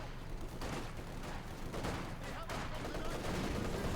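Machine gun fire in the Company of Heroes 2 strategy game, a dense, continuous battlefield clatter of rapid gunshots and bursts that stays loud and unbroken throughout.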